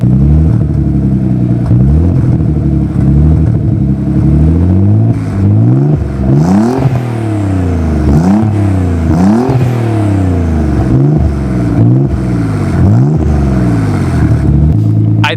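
A twin-turbo Nissan 300ZX with catless downpipes revs hard and repeatedly, loud and close, each sharp climb falling back before the next in a quick rhythmic series.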